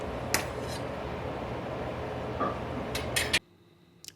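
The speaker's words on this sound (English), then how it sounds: "Stirring in that protein. I always stir it in." A spoon clinks and scrapes against a brew kettle while protein is stirred into boiling wort for a Double IPA, a steady bubbling rumble beneath the metallic taps before it cuts out.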